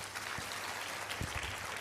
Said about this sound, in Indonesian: Tepuk tangan sekali lagi Bapak dan Ibu.